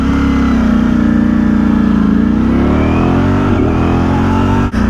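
Loud, close engine note of a 2023 Ducati Streetfighter V4S motorcycle, a sustained drone that sags and then rises in pitch as the rider downshifts with a throttle blip, followed by a sudden brief cut near the end.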